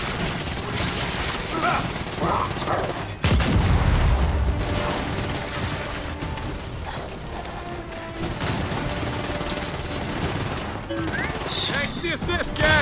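A grenade blast and gunfire in the Gears 5 shooter: a heavy boom breaks through ongoing bursts of weapon fire, followed by more shots, clanks and voices talking over the battle.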